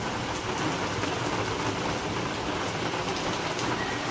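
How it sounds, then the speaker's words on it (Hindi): A heavy downpour arrives suddenly in a village, soaking stacked dry firewood. The rain makes a dense, steady, loud hiss that never lets up, with no voices. "ये देखिए हमारे यहाँ कितनी बारिश हो रही है, बड़ी तेज बारिश एकदम से आई है"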